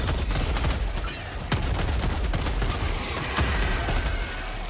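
Gunfire rages in a Helldivers battle, with loud rapid volleys and distinct cracking shots over a constant low rumble of combat.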